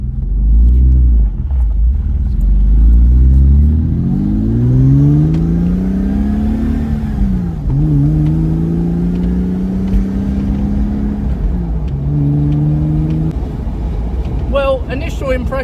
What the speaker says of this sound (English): I put my foot down pulling away there, and there wasn't a great deal of anything.